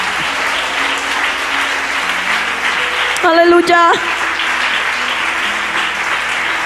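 Church congregation applauding loudly and continuously during a service, dense clapping throughout, with a preacher's voice briefly shouting over it midway.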